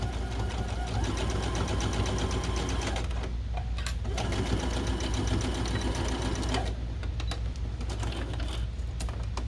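A sewing machine stitches a sleeve for a homemade Boo costume from Monsters, Inc., running in close, continuous bursts with a short pause partway through and no talking.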